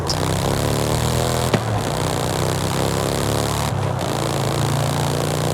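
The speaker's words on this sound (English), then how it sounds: "the developers literally got a real-life Morgan 3-wheeler and recorded the sound from that car" Steady drone of a Morgan 3-Wheeler's engine, recorded from the real car, in the racing game Forza Horizon 5: a loud, even motorcycle-like hum with a brief click partway and a short dip later, no talk.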